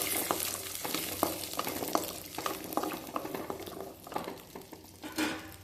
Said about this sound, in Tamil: ஒரு கொத்து கருவேப்பிலை சேர்த்து இதை நல்லா ஓரளவுக்கு வதக்கிக்கலாங்க